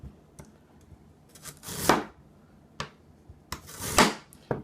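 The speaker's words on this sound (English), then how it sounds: "I'm just going to take off a bit of it" A knife cutting a piece off fresh ginger, skin left on, on a wooden board: a few sharp chops and two longer scraping slices, close and isolated, no talk.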